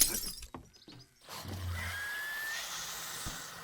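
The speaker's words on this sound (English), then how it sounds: "And smashing things with this baseball bat is pretty good." Baseball bat smashing things in the video game 7 Days to Die: a few sharp close impacts and crunches, then a rough grinding roar with a thin screech, and one last thud near the end.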